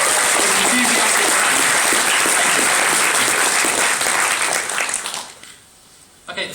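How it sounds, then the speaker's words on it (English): Loud, close crowd applause at an indie game event, sustained clapping from many hands that tapers off sharply near the end before a brief burst of voices. "Give them a round of applause,"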